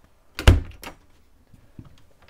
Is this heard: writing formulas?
no